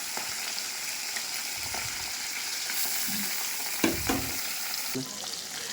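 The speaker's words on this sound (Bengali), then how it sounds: "এবার একে একে মাছগুলোকে কড়াইয়ে ছাড়ছি।" Rohu-type bata fish pieces frying in hot mustard oil in a kadai, a steady broadband sizzle with a few sharper spits and crackles as pieces go in, close and continuous, no talking.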